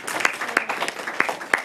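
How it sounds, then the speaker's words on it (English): A small school theatre audience claps after a student acting scene, with sparse, separate claps scattered over a couple of seconds, moderately loud in a room. "y'all can clap"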